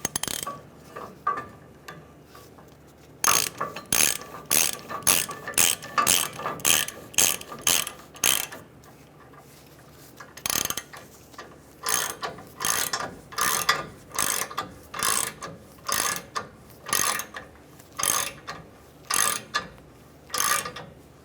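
A torsion bar unloading tool cranked on a vehicle with a ratchet produces rapid, regular clicking bursts, stroke after stroke with brief pauses between, close by and mechanical.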